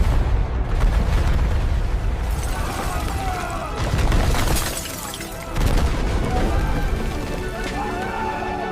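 Volcanic eruptions, rendered as a dramatic sound effect, unleash loud, continuous rumbling with cracking, shattering bursts and booming surges that briefly dip and then return, dense and chaotic throughout.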